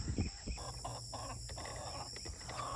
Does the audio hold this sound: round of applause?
no